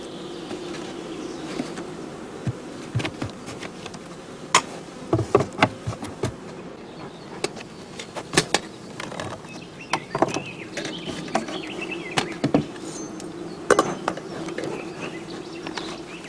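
Honey bees buzz around a hive in a low, continuous hum, with sharp knocks and clicks scattered throughout as nearby handling or movement breaks in irregularly.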